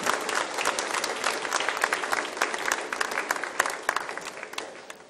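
Dense, continuous clapping from an audience at a church welcome gathering, many hands together at moderate distance, holding steady throughout.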